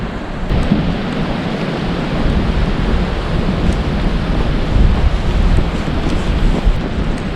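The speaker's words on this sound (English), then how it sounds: "This wind is really whipping up." Strong wind roars across a snowy Minnesota state park after a spring snowstorm, a loud, continuous buffeting gust that batters the microphone without letup.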